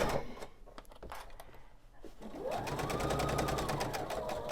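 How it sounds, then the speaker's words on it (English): A sewing machine stitches around the edge of a quilted candy dish pillow, starting with a few short clicks and handling sounds before settling into a fast, steady run of stitches close by. "I'm simply going to remove the clips as I go and sew around my piece"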